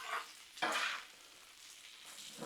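Cabbage sizzles on a Blackstone griddle, with bursts of frying hiss and stirring scrapes that rise and fall over a soft background sizzle, close and moderately quiet.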